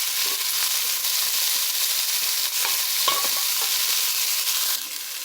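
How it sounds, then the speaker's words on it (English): Garlic and onion frying in oil in a pan for a budget noodle dish, a steady broadband sizzle and crackle holding evenly throughout with a few stir scrapes, close and fairly loud with no talk. "we're just adding oil for frying our garlic and onion"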